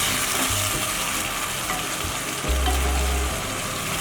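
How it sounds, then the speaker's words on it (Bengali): Marinated yogurt chicken stirred in a hot pan with masala and no added water, a dense, loud, continuous sizzle with scraping and clatter from the utensil, close by, no voices. "এবার দিয়ে দিচ্ছি ম্যারিনেট করে রাখা চিকেনটা। এবার সব ভালো করে মিশিয়ে দেব।"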